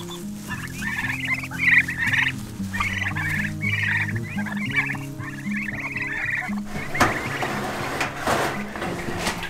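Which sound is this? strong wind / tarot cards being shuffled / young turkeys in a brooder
young turkeys in a brooder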